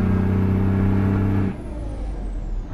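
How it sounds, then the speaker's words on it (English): Dodge Bighorn CNT950 truck engine in American Truck Simulator, a loud steady low diesel drone with strong harmonics that drops abruptly to a quieter, rougher rumble halfway through. "just really take in the sounds of the engine from there"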